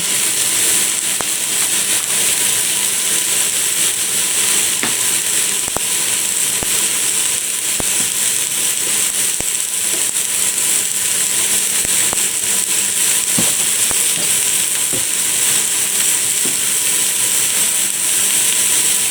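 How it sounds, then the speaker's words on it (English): An ALDI low-priced steak sears in a hot frying pan, giving a steady, loud, close sizzle with scattered crackles and pops that continues unbroken. "It said a minute on each side searing it."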